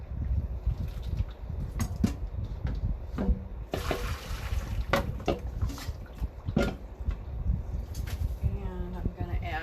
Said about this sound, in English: I'm going to take my bean thread noodle and drain that.